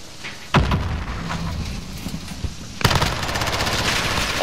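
Rapid MP7 submachine gun fire from Call of Duty: Modern Warfare, a loud sustained burst that jumps in intensity partway through, layered over other game sounds.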